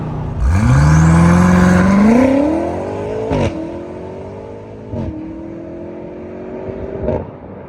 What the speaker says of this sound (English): accelerator all the way down, launch control active